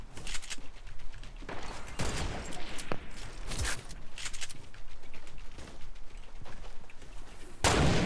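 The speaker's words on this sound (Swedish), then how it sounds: "man hör typ inte vart skotten kommer ifrån" Rapid bursts of gunfire in the video game Fortnite crackle through a busy battle, with repeated loud volleys and scattered single shots, a sharp burst closing the sequence.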